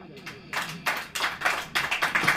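Congregation at a church service clapping in rhythmic bursts, several hands beating together in a quick pulse that rises and falls, close and moderately loud, with a voice faintly underneath.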